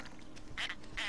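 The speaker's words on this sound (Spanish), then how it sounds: "El patito." A duck quacks in the video game Suicide Guy: The Lost Dreams, two bright nasal quacks about half a second apart, close and clear over a low, steady game background.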